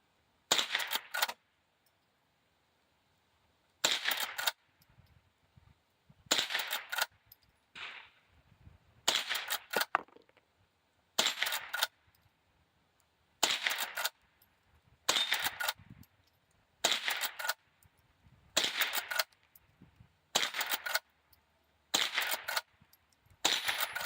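Single shots from a Marlin 39A .22 lever-action rifle, about ten sharp cracks spaced a couple of seconds apart, close, each followed by quieter handling and lever noises.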